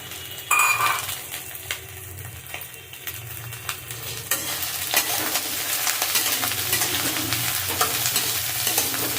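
Eggplant and flat beans frying in oil in a pan, a loud hissing sizzle that grows fuller halfway through, with clinks of a utensil against the pan and stirring scrapes, no voices.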